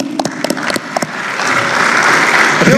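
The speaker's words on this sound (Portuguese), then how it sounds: "Palmas para o ministro Fux." Audience applause at an event honouring minister Fux, a few sharp early claps and knocks that swell into a loud, dense, continuous burst of clapping, close and building, with no talk over it.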